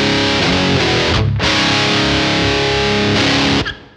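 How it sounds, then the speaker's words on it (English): Electric guitar through the distortion circuit of a Tech 21 PL1 Fly Rig: a thick, loud, saturated chord rings out, briefly cuts, then sustains before stopping abruptly, with no voices. "if you hit the foyer switch, it turns on the distortion circuit"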